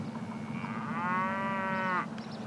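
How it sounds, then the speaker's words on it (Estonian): A cow on a Saaremaa farm lets out one long, drawn-out moo in the early morning, moderately near and clear, lasting about a second over a quiet rural background with a low steady hum. "kui välja arvata need lehmad, kes juba hommikul vara undama hakkavad"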